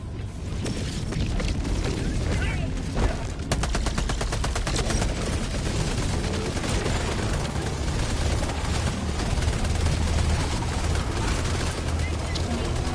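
Laser cannon fire and heavy weapon bursts in the Helldivers 2 video game, dense and continuous under a rumbling battle mix, with a brief sharp burst of rapid pulses near the start and talk layered over it.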